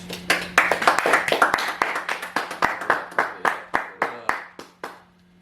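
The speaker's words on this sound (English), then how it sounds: "Let me get a round of applause." A small studio group claps for several seconds, with sharp, distinct hand claps close by that thin out and stop, over a faint steady hum.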